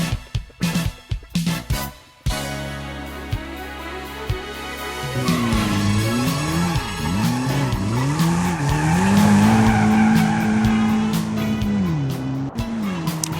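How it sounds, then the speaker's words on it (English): R30 Nissan Skyline RS Turbo in a touge racing video game, its engine revving and rising in pitch as tires skid and squeal through a long slide, loud and continuous after a few sharp opening bursts. "First things first, we got the R30 Nissan Skyline RS Turbo."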